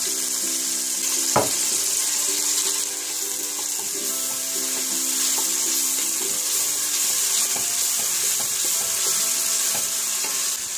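Tomato paste is stirred and fried in a pot for Turkish lentil soup, giving a steady sizzle with scraping stir sounds and a sharp knock of the spoon early on, with no talk.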